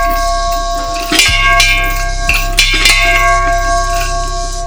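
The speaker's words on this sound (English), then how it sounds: "Turning a completely broken down cylinder into this commercial bell, it's a remarkable thing." Commercial school bell made from a broken-down metal cylinder, ringing with bright sustained metallic tones; a few louder strikes land around one to three seconds in over a steady low hum, nearby and loud.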